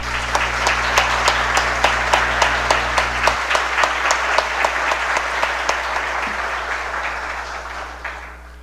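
Audience applause filling the room at a company's 30th anniversary celebration, steady dense clapping with a rhythmic pulse under a low hum, thinning toward the end.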